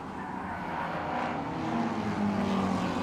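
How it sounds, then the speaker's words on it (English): Race cars at Mid-Ohio, a pair of Hondas leading two Corvettes, roar past in a steady, loud engine drone that swells slightly toward the end, with a faint tire-squeal edge. "Two Hondas leading a pair of Corvettes."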